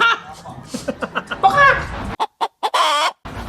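Chicken clucking sound effect: a run of short rhythmic clucks building into a louder squawking burst, then a few abrupt clipped bursts separated by silence, close and loud.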